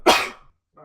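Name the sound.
sneeze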